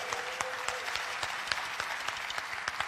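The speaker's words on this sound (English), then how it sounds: "can we give a big cheer for churning?" Audience at a Bacardi Legacy bartending competition applauding and cheering, continuous crowd clapping with sharp individual claps standing out through a steady roar.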